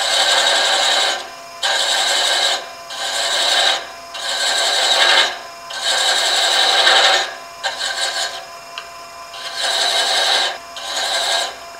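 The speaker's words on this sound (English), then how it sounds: "So I'll just continue to chase some threads on there." A thread chaser rasps across a spinning piece of wood in repeated loud, even scraping strokes of about a second each, separated by short pauses, with no talk.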